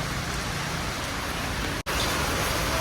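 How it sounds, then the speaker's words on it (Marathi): Heavy rain pours in a dense, continuous roar, loud and unbroken apart from a split-second dropout near the end. "जाम जोरा पाऊस आले"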